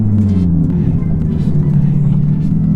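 A tuned Nissan 370Z running on E85 idles and revs close by, a loud, deep, throaty engine drone with a shifting pitch, under casual talk.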